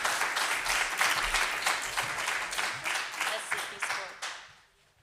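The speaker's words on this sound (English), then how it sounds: "please give a round of applause to all of our speakers today" Applause from a conference audience for speakers on stage at a women-in-digital event in Brussels, a quieter rippling clatter of hands with a soft pulsing rhythm that fades out over the last second.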